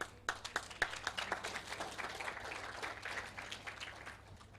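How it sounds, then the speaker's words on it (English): An audience at a diplomatic forum in Bali applauds a souvenir handover, a soft, fairly distant patter of many hands clapping steadily before fading. "Please give a round of applause."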